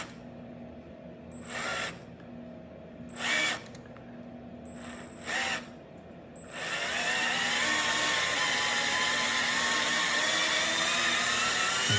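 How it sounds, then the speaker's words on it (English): A few short bursts of a high-pitched cordless drill, then a sustained steady whine of drilling into aluminum on a Honda CBR1000RR-R Fireblade SP that continues to the end, close by. "I just hope I have enough of battery in this drill."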